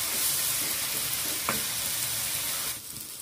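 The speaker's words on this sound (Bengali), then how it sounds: "এখন মশলাটাকে ভালো করে কষিয়ে নিব।" A ginger, green chili, garlic and onion paste fries in a pan for Bangladeshi-style egg curry, giving a loud, steady close-up sizzle with one brief utensil clink partway through and no voices.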